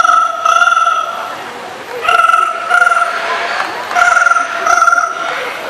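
At Jurong Bird Park, a bird imitates a ringing telephone with paired bursts of trilling electronic-style rings that repeat in a steady ring-pause rhythm. The sound is loud and close.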